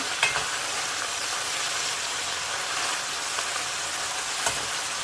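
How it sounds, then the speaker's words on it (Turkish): Continuous crackling sizzle of green beans with onions sautéing in olive oil in a pot over low heat, close and even, with a couple of faint clinks from stirring. "Kısık ateşte 6-7 dakika fasulyemizi kavuralım."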